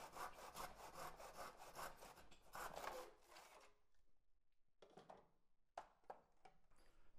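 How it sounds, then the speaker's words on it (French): A hand saw cuts through wooden beams held in a miter box, with rapid rhythmic back-and-forth rasping strokes for about three seconds, followed by scattered knocks and faint handling sounds, close and clear. "Nous commençons par scier les poutres à mesure, et cela, je le fais grâce à ma boîte à onglets."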